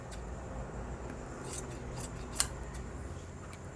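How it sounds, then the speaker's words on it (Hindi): Scissors cut through the joined seam of petticoat fabric, giving a few soft, quiet snips with one sharper metallic click midway over faint background hiss. "और ये जो जॉइंट भाग है इसे हम लोग काट लेंगे।"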